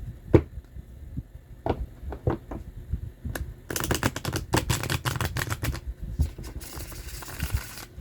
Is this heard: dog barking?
no